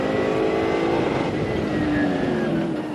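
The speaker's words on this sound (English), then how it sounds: "And that engine and gearbox working really hard." A 1998 Eurocar V8 race car at Donington Park, its V8 engine and gearbox straining hard with a loud, continuous high-revving roar that shifts in pitch as it passes.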